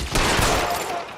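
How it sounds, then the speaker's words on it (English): A short, loud burst of gunfire in the video game L.A. Noire, a sharp close blast followed by a brief rattling echo that fades out. "Damn, he shot my head off."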